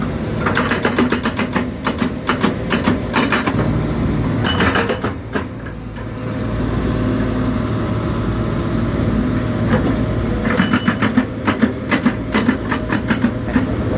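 A Kobelco SK140LC-8 excavator runs a hydraulic breaker beside an expressway, with bursts of rapid metallic hammering at the start, middle and end over a constant loud diesel engine drone, close and without talk.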